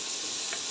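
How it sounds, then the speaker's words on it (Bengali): Chopped garlic, green chilli and onion fry in a pan, a brief, steady, even hiss of close sizzling. "এখন দিয়ে দেবো রসুন কুচি, কাঁচামরিচ কুচি, আর দিয়ে দেবো পেঁয়াজ কুচি। এটাকে ভালো করে ভেজে নেবো"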